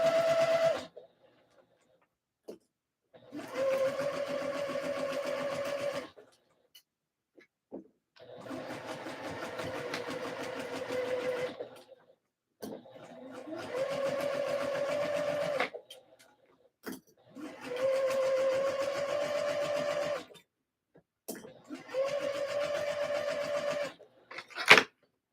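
A sewing machine sews a skort seam in five or six separate runs of a few seconds each, split by quiet pauses, moderately close, with no talking.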